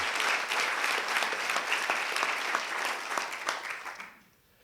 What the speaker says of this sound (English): one more round of applause for those coaches